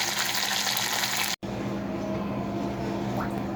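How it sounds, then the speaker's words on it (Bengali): Fish frying in oil in a pan while a fish curry is made, a steady crackling hiss that cuts out for an instant near the middle and then carries on at a slightly softer level. "আমি সবগুলো মাছ ভেজে নিচ্ছি"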